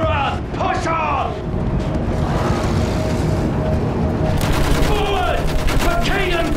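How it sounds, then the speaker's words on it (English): Machine gun fire in the Battlefield 5 war shooter: continuous rattling bursts amid loud battle rumble, with shouted voices over the fighting and a fresh flurry of rapid shots near the end. "Use that machine gun! Mow them down!"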